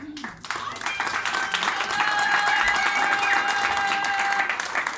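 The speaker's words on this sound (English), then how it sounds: "I would like the guitarist to stand again and just take another applause" A large crowd at a Namibia Independence celebration applauds a guitarist, a loud sustained wash of clapping swelling after a brief pause and carrying on steadily, with music tones lingering underneath.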